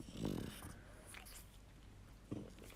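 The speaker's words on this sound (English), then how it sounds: "sorry if you can hear the dog in the background" A dog makes a short snorting, whimpering sound nearby, then again briefly a couple of seconds later, with quiet room noise in between.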